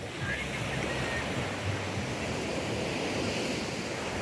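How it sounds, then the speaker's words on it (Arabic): Sea waves roll and break on the shore of the beach at Targha, a steady, close wash of surf with constant broadband rush and some wind buffeting the microphone, no pause throughout. "هذا موج البحر."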